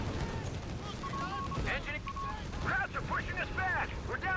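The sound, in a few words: gunfire as Rangers kill an MG, from video game Company of Heroes 3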